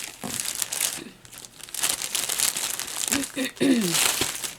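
Crinkly plastic bag packaging from a diamond painting kit rustles and crackles steadily as it is handled and opened, with bursts of crumpling over about four seconds, close and fairly loud.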